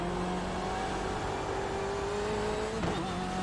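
Simulated BMW M8 race car engine in iRacing, a steady loud drone with a sustained engine tone that dips sharply near the end as the car brakes hard for a tough left-hand corner at Summit Point.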